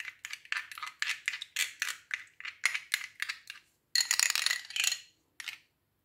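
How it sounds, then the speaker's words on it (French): A face mask preparation is whisked briskly in a bowl, a rapid run of bright clinking, scraping strokes in quick rhythmic bursts, close and alone, with a short pause before a final flurry. "On va encore bien mélanger."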